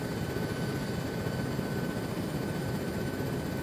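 Huey transport helicopter in the Arma 3 game, flying with a steady, loud broadband rotor and engine roar that holds constant throughout, with no talking.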